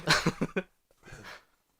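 A man coughs in a quick close burst of four harsh coughs, then a short pause and a softer, breathy cough or throat clearing, with no other sound.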